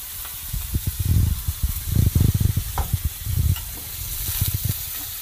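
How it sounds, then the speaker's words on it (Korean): Thinly sliced fish, a mountain trout (sancheoneo), sizzles loudly in a hot pan under a steady frying hiss, with bursts of crackling spatter as the pieces are moved. "그 사이에 이제 또 생선을 구워보겠습니다. 생선은 얇게 써서"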